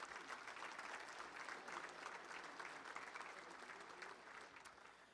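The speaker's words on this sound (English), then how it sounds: "let's give Simmons Bank and all of our great sponsors a big round of applause" A banquet-room audience at a touchdown club luncheon claps steadily and evenly for the sponsors, a dense, sustained round of applause that fades slightly toward the end.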